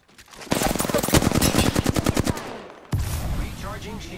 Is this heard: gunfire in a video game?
yes